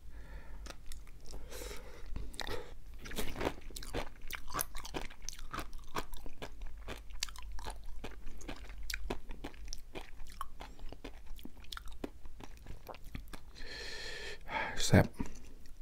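Crunchy sea grapes seaweed being chewed close to the mic at an ASMR mukbang, a run of rapid crisp bites and wet crunches repeating steadily, with a louder burst near the end.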